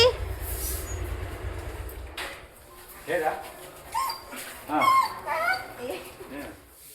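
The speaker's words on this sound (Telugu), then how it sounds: "ఇవి మేము పెంచుకునే కుక్కలు." Pet dogs bark in several short, spaced bursts amid a crowded village goddess festival procession in Srikalahasti, following a low rumbling start, with people talking nearby.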